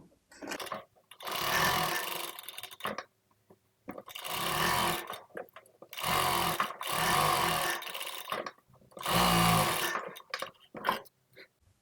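A sewing machine top-stitches a yoke pleated baby frock in four or five loud, whirring bursts of about one to two seconds each, separated by short pauses, close by and without talk.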